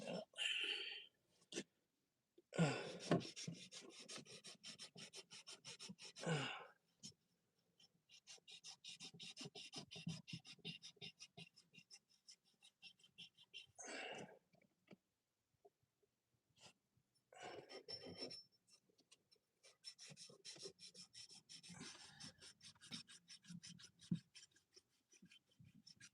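Scraping and rubbing on an old plumbing pipe in a cramped knee wall as a burr is cleaned off, in intermittent close bursts of rasping strokes with breathing between them.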